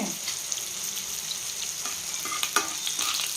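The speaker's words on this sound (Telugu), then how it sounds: "మెంతులు ఫస్ట్ మెంతులు వేసి వేయించుకుందాం." Fenugreek seeds fry in hot oil in a pan, making a continuous soft sizzle with light spoon clicks and stirring scrapes scattered through it.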